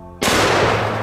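A Smith & Wesson M500 revolver fires a single .50 magnum round at bulletproof glass, one loud sharp blast after a short quiet moment, followed by a sustained ringing decay.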